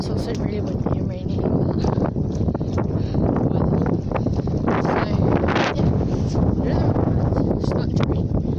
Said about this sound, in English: it's also really windy and rainy